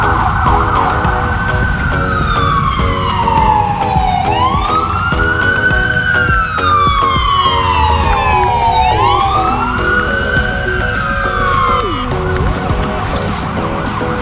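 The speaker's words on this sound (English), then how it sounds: "I don't want to try and compete with an ambulance siren." A loud ambulance siren close by on a Tennessee street wails in long rising and falling sweeps, with traffic rumble beneath it and no talking.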